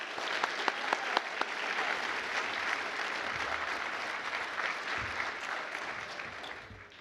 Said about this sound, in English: Let's give a big round of applause for all these quarter-century club inductees